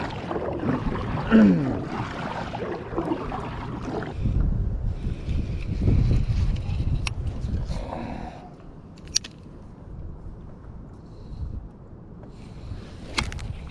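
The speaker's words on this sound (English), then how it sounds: "What's going on with the wind?" Wind gusting over a bass fishing boat on open water during springtime fishing in grass, heard as a steady low rumble and buffeting against the microphone that swells and eases, with no talking.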